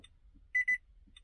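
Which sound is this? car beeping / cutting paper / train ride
car beeping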